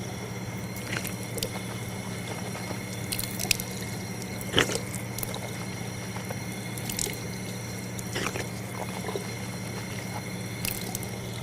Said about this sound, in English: After that, washing the mouth 3 times.